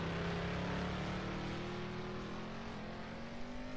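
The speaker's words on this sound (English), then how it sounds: "And Jackson will burn it out here at Daytona." A stock car in a racing video game does a burnout at Daytona, a continuous engine roar with slowly rising pitch, steady and fairly loud throughout.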